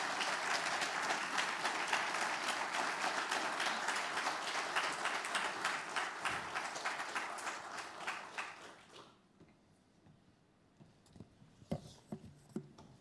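A large conference audience applauds in a dense, sustained wash of clapping for about nine seconds, then it dies away into quiet room sound with a few stray claps.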